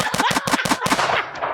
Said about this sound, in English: these was gunshots